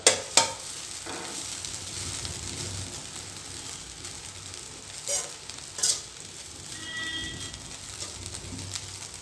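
Bread crumbs stirred in a hot pan over medium flame, a soft steady sizzle and scraping running throughout with a couple of sharper clinks near the start and a few louder stirring strokes later on.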